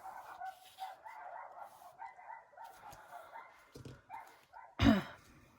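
Several dogs bark in the distance, a scattering of faint, irregular woofs, with one louder, sharper bark near the end inside a quiet room.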